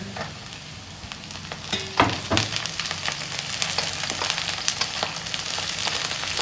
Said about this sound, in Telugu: ఆనియన్స్ కొంచెం గోల్డెన్ బ్రౌన్ వచ్చిందాక ఫ్రై చేసుకుందాం